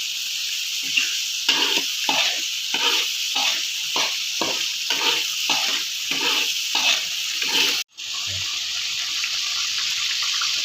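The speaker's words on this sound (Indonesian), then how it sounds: "jangan lupa kita tumis-tumis kembali seperti ini ya teman-teman ya" Seasoning with palm sugar, sugar and pepper stir-frying in a pan, a steady hiss broken by repeated rhythmic scraping strokes of a spatula, then a brief cut and continued sizzling.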